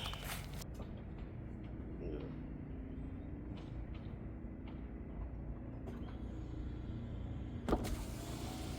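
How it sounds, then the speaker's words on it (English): Power windows on a Chevy Impala whir down in a quiet car, a soft steady electric motor hum that runs for several seconds and ends with a faint clunk. "Let these windows down."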